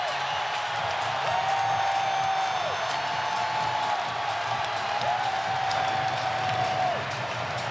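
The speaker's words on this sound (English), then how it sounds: "This crowd loving it." A basketball arena crowd at an NBA playoff game between Minnesota and Oklahoma City roars and cheers steadily, a dense sustained wall of noise with whistles and music tones riding over it.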